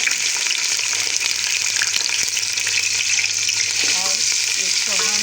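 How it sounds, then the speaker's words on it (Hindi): Chopped onions sizzling and frying in oil in a cooking pot, a loud, dense, continuous crackle with a few faint clinks of stirring toward the end. "अब इसके अंदर हम प्याज जो एक काट के रखी"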